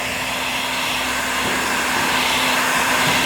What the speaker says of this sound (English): Use a hairdryer or a heat gun